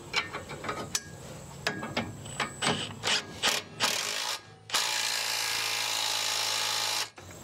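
A wrench ratchets on a 3/4-inch bolt of a Bush Hog 3008 rotary cutter slip clutch, with several quick ratcheting bursts and clicks, then a longer continuous whirring run that stops sharply.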